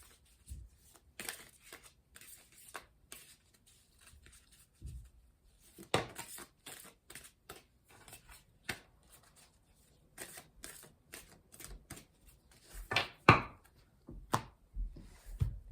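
Tarot cards being shuffled in a run of quick crisp riffles and taps, irregular and close, with no voices.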